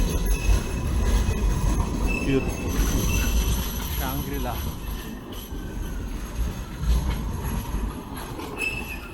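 A passenger train rolls past on the rails in Sydney, Australia, rumbling and clattering nearby with wheels squealing, while people chat over it.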